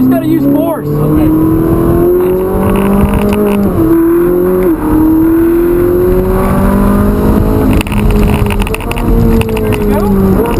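A Ferrari 458 Italia drives around the Hallett Motor Racing Circuit. Its engine is loud and close, climbing and falling in pitch through repeated revs and gear shifts under a constant rush of wind and road noise.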